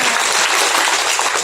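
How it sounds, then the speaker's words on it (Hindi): Audience clapping at a saints' gathering marking a death anniversary, a dense, loud burst of many hands filling the short stretch, close and continuous. "ताली एक बार"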